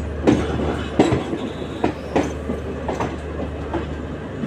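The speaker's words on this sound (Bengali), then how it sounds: "ওটা মালগাড়ি।" A goods train rolls past at Khurda Road on the East Coast Railway, wagon wheels giving a steady clickety-clack with regular heavy thumps over rail joints under a low continuous rumble.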